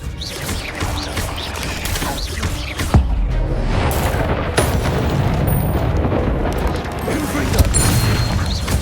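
In Hogwarts Legacy, the Confringo fire spell sets off loud explosive bursts over dense game combat noise, with a sharp crack near three seconds and further booms and crashes following in quick succession.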